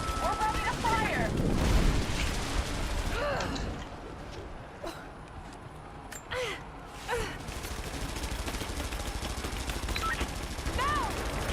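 Video game gunfire in Rise of the Tomb Raider, with a heavy, loud burst at the start followed by scattered single shots and short bursts over a constant battle din.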